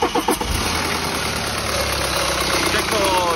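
A BMW 520d F10 diesel engine, running rough with a misfire and blowing white smoke, idles loudly and close up just after starting, with an uneven, lumpy throb and a brief revving burst at the start.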